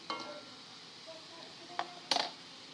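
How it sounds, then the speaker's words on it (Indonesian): Potato croquette rolls made with cornstarch fry in hot oil with a soft, steady sizzle, broken by a few sharp clinks of a utensil against the pan. "ini kita goreng yang kedua ya bun"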